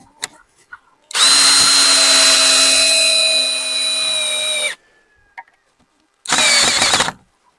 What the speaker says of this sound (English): I'm going to just try to reinforce it by putting a couple screws in to the T-posts and attach them to the skids.